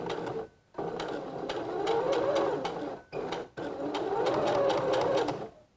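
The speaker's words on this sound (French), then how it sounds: "je commence ma couture avec un point d'arrêt" A domestic sewing machine stitches swimsuit fabric with a backstitch, running in loud, steady whirring bursts separated by two brief pauses.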